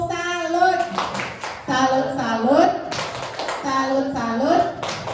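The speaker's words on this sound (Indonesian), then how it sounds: "yang terakhir mah tepuk salut" A group performs the tepuk salut clapping routine: children chant in a sing-song voice while sharp hand claps land every second or so, close and fairly loud.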